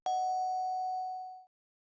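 A single doorbell chime rings out once, clear and loud, its bright tone holding steady for over a second before cutting off abruptly, with nothing else around it.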